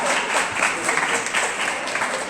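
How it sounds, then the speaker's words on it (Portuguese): A live audience at a MesaCast stream event gives a round of applause, steady dense clapping throughout without a break. "Uma salva de palmas para as 20 mil pessoas que estão acompanhando"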